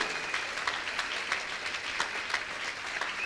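A church congregation in Kinshasa claps for Jesus during a service, a soft, steady patter of many hands heard at some distance throughout.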